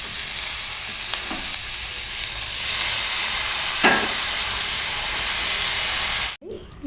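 Spinach hits hot tempering in a pan with a loud, continuous hissing sizzle close up, a couple of brief stirring scrapes rising through it before the sound cuts off abruptly near the end.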